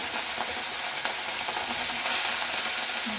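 Katla fish pieces rubbed with salt and turmeric frying in hot smoking oil in a kadai, a loud, steady crackling sizzle with no talk over it.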